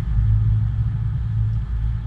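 Car accelerating, heard as a loud, steady low engine rumble and drone from close by, continuous throughout with no speech.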